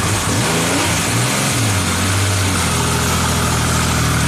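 A motor engine revs up and winds back down, pitch rising and falling over a couple of seconds, then settles into a steady idle, close and loud.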